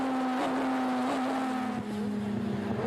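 Sidecar racing rigs at a Grand Prix on the Ruapuna circuit in Christchurch, New Zealand, scream down the front straight under full throttle, a loud sustained high engine whine with slight pitch shifts as they pass, no talk heard.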